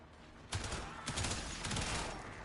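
A burst of rapid gunfire in a shooter video game erupts after a brief pause and keeps rattling on, loud and close, with no talking.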